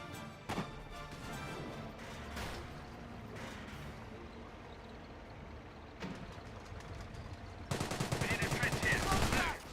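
Bursts of machine gun fire from an MMG carrier in a Company of Heroes battle, with short rattling volleys early on and a louder, denser sustained burst near the end over steady background battle noise.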